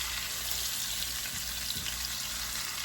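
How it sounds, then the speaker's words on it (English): Pork chops cooking in a Ninja Speedy air fryer, a soft steady hiss and faint sizzle with a constant fan whir, quiet and close, with no talking. "Air frying some pork chops."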